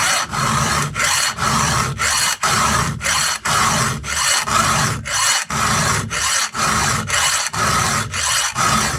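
A round file rasps across a chainsaw cutter tooth in steady back-and-forth strokes, about sixteen even passes with brief pauses between them, close and loud with no talking.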